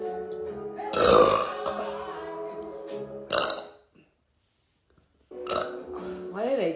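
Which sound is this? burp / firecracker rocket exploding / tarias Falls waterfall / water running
burp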